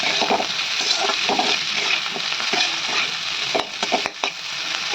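Close, steady sizzle of ground green chilli frying in hot oil, with occasional stirring scrapes and clinks in the pan.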